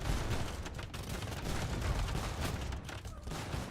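Organ guns and a bombard cannon firing in Age of Empires 2, Portuguese gunpowder units in battle, producing dense overlapping volleys of crackling shots and booms that run continuously and loudly without pause.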